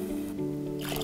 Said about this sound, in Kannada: ನಾನು 4 ಕಪ್ ನೀರು ಹಾಕಬೇಕು. ನಾನು 5 ಕಪ್ ಹಾಕ್ತೀನಿ.